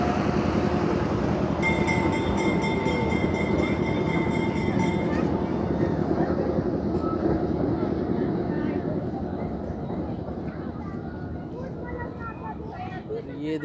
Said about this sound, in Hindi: ट्रेन, ये ट्रेन देखिए